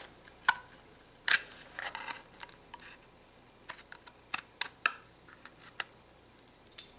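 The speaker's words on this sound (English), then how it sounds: "you can actually go into the back of the box where it's going to be hidden and cut out a small triangle" A small triangle is cut out of the back of a cardboard box with a few close, sharp snips and clicks, scattered irregularly over a quiet background with no talk.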